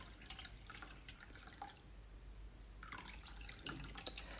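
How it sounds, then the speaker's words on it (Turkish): Homemade pomegranate vinegar drips and trickles as its pulp is gathered in cheesecloth and squeezed, quiet wet patters and a brief run of liquid, close and soft, with a pause midway. "Tülbentimizi güzelce toparlıyoruz ve sirkemizi posasından ayırıyoruz."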